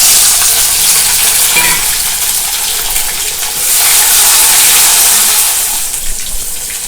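Tomato pieces frying in a pan of oil for a citron (narthangai) gravy, a steady loud hiss and sizzle running throughout with slight swells, no voices.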